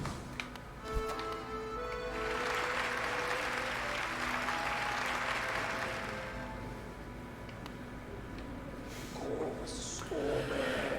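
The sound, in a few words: crowd applauding and cheering in the video game Hollow Knight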